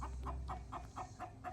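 Chickens on a homestead building site cluck in a steady series of short, repeated calls about every quarter second, fairly close and alone over low background rumble.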